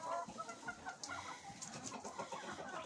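Chickens cluck steadily on a farm, several hens overlapping nearby in a busy, continuous chatter of short calls with no pauses.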